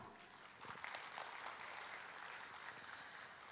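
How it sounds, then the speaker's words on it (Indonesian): An audience at a hydrogen summit opening ceremony breaks into applause, which swells after a brief pause and holds steady as a dense, moderately distant clatter of clapping. "Beri tepuk tangan yang meriah."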